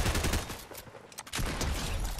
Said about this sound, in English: now that I have an actual shotgun